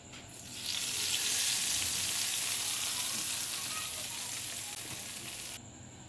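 Steady, loud sizzling of spices frying in hot oil for a kadhi pakora tempering, a continuous crackling hiss that cuts off abruptly near the end.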